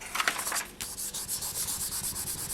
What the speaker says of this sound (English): you can just burnish it down a little bit more